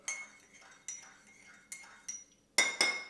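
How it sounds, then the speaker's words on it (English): A spoon stirs a ginger shot with honey and boiling water in a mug, giving several bright metallic clinks against the sides, spaced irregularly and ending in a louder double clink. "Give it a stir."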